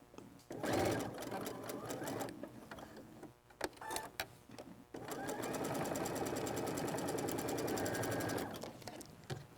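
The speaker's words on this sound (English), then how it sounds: "when I'm sewing along, when I get to this middle seam right here" A sewing machine runs in bursts as it stitches a quilt block seam, with a short stretch near the start, brief stops around the middle, then a longer, steady, loud whirring run close by.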